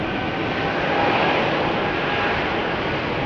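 A KLM Embraer E195-E2 jet at Amsterdam Schiphol Airport gives off a steady, loud broadband engine roar that holds evenly throughout, with no talking.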